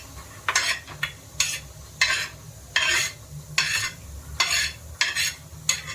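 Grated coconut dry-roasting in a pan, stirred in a steady rhythm of scraping swishes about twice a second, close and moderately loud with no voices over it.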